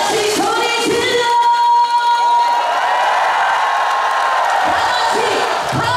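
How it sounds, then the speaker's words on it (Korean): Audience in a KBS Busan singing-class TV studio cheers and shouts with a guest singer, a loud crowd roar with whoops, with a sustained sung or shouted tone over the noise. "다같이 소리 질러!"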